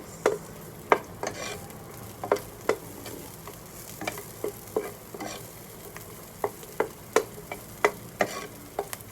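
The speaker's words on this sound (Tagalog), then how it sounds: "Magigisa muna tayo ng bawang." Garlic sautés in a pan already used to cook chicken gizzards for chop suey, a steady sizzle broken by regular, sharp spatula scrapes and clicks roughly every half second, close and clear with no talking.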